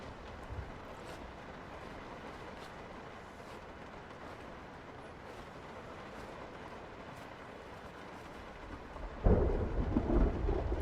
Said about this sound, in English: Oh, thunder does affect the zombies.